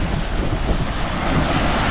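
Ocean waves roll onto a shore in a steady, loud wash of surf, mixed with strong wind buffeting the microphone throughout, with no voices.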